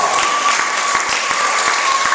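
Children at a school assembly applaud in a dense, steady burst of clapping that fills the room, loud and close, with no talk over it.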